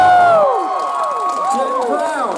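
A convention crowd greets voice actors with high excited cheers and shouts, several voices rising and falling over a bed of scattered clapping, loud and close.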